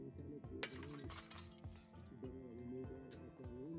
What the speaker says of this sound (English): Also clean up this glass